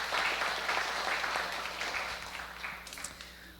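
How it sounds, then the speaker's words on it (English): Audience at a pastoral installation ceremony gives a round of applause, a fairly loud burst of clapping that fades over a few seconds, with a faint voice near the end. "So let's give them one more round of applause."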